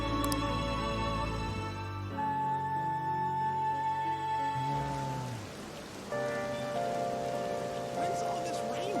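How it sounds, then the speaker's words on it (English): Steady patter of rain in Persona 5 runs beneath layered tonal game music, constant and fairly loud, with a brief dip midway before the rain and music resume. "When's all this rain gonna end?"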